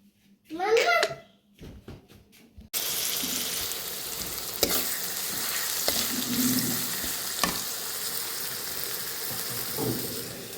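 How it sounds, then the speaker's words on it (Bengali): Food frying in a pan, heard as a loud, continuous hiss of sizzling oil that starts abruptly after a voice and a few knocks, with occasional faint clinks over the steady sizzle. "এখন এটা আমি ভেজে নিব ভালোভাবে"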